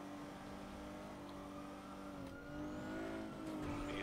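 A fast car's engine pulls hard in the GTA video game, a steady, droning roar that rises in pitch toward the end, heard fairly faintly and alone without voices.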